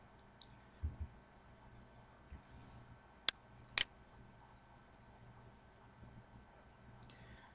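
A few sparse computer mouse clicks tick out faintly over a quiet, low background hum, with two or three sharp clicks standing apart from soft shuffling.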